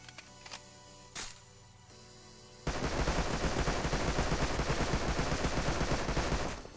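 An MP5 in the game Rust fires a sustained, loud automatic burst with uncontrolled recoil, a rapid rattling stream of shots lasting about four seconds, preceded by a few faint clicks and quieter sounds.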